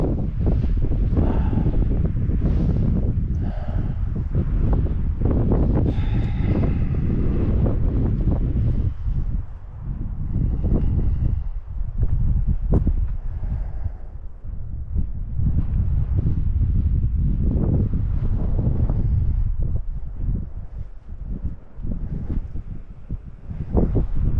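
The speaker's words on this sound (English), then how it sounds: "Kind of windy." Strong mountain wind on the Appalachian Trail over Roan Mountain buffets the microphone in heavy, rumbling gusts that rise and ease throughout, loud and close, with no other sounds standing out.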